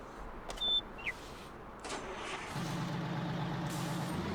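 A truck in the Farming Simulator video game: a brief hiss and a couple of clicks, then a steady low engine rumble starts and holds at close range to the end.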